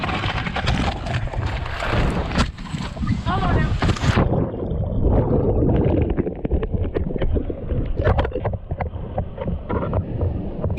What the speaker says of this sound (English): if you wonder what it sounds like and how long it takes to fall 70 feet while you're on a motorcycle